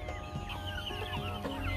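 Chickens clucking inside a poultry shed on a low-cost desi hen farm, a steady overlapping chorus of close, moderately loud clucks and short calls with no talk.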